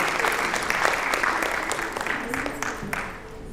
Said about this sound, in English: Please give a round of applause to this brilliant man.